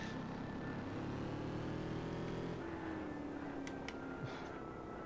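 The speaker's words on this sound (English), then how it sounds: "Feel the pain of the car. You can hear her revving." A car engine revs in the video game Alone in the Dark (2008), a steady droning hum with a slowly falling pitch, fairly quiet and alone with a couple of faint clicks near the end.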